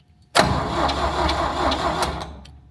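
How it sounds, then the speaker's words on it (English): An engine on a railway speeder, turned over by its starter, abruptly catches and roars to life, then runs with a steady rumbling idle that slowly eases off, close by and loud. "test and see if the solenoid and starter are working"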